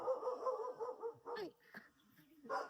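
A dog barks and yips a few times up close, short sharp calls with whimpery tones, on a rainy day outdoors.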